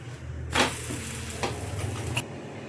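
A moong dal dosa roasts on a hot pan, giving a quiet, steady sizzle with a few short scraping sounds.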